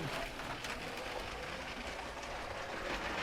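Steady rattling rumble of a LEGO high-speed passenger train running along its track, continuous and fairly close, with faint clicking over the rails.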